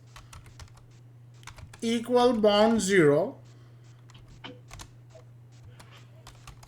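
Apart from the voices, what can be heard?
typing on a computer keyboard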